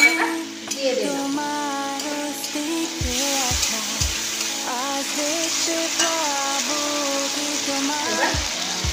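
Ginger and green chili paste frying in a pan while being stirred: a steady close sizzle with scraping stir strokes, under tonal background music.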